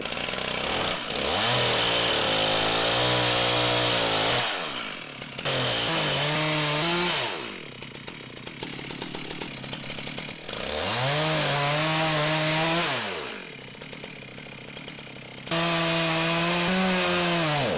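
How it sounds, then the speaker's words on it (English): A chainsaw roars close by, its engine rising and falling as it bites into wood in long cutting passes, with brief revving pauses between them. "he got a chainsaw? Oh yes!"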